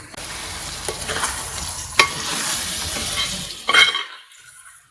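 Chicken pieces coated with chili powder, turmeric and salt are stirred in a pan for a country chicken curry, a steady close sizzle with a few scraping and clinking spoon strokes before it falls silent.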